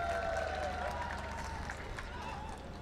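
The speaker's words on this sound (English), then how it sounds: "Cheer from the crowd." Crowd at a live football match between FC Xiga United and Patkai United FC: a broad, sustained wash of cheering and applause that slowly fades, heard at a distance with a commentator's voice running over it.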